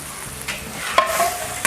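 Pork fry being stirred in a hot pan, a soft sizzle under scraping stirs with a couple of sharper clinks, close and brief with no voices.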